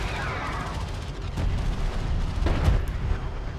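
Heavy ship barrage gunfire in the real-time strategy game Homeworld: Deserts of Kharak, a dense rumbling stream of artillery booms with a couple of sharper blasts near the end, continuous and loud.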